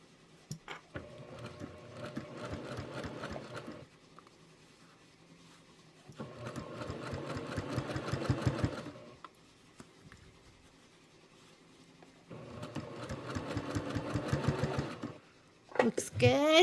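A sewing machine stitches a quilt in three bursts of rapid, even clicking of a few seconds each, separated by quiet pauses, close and fairly soft.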